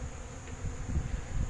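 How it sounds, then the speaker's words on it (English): Honey bees buzz faintly around hives on a farm, a steady low hum with soft rumbling in the background and no voices. "I cannot believe how quick these bees have come here"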